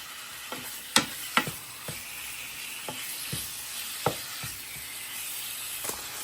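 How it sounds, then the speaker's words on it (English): Seasoned food being stirred in a frying pan for an Alfredo dinner: a soft, steady sizzle runs underneath while a utensil scrapes and taps the pan in scattered strokes, a few sharper clinks standing out, with no voices. "stir it up to get that seasoning all over everything"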